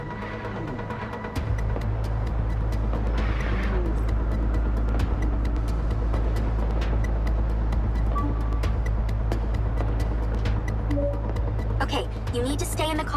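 A car drives in the MindsEye video game with a steady, loud engine drone from start to finish. Voices talk over it, and there are a few faint mechanical clicks and whooshes.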